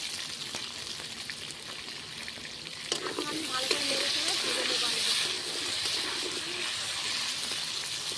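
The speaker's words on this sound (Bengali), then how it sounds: "আমি এখন আলুগুলো ভেজে নেব" New potatoes fry in oil with a steady close sizzle and occasional stirring clatter, while a voice talks briefly over the frying partway through.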